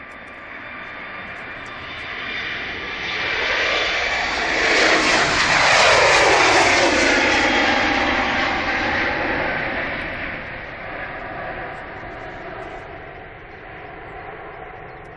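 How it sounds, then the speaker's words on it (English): A Turkish Airlines Airbus A321neo jet departing Manchester Airport for Istanbul, its engine roar swelling to a loud, sweeping peak as it passes and then slowly fading into the distance. "Turkish Airbus A321neo to Istanbul."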